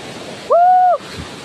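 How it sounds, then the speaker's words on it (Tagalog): A stream flows on a cold, rainy day, a steady broadband wash of water throughout, interrupted midway by a sustained vocal whoop lasting about half a second. "Ayan na, ang batis."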